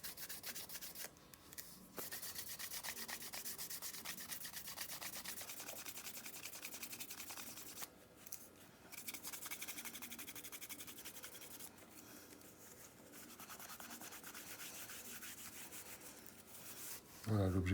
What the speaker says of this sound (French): Je viens retirer le trop-plein avec un chiffon. Chiffon de coton principalement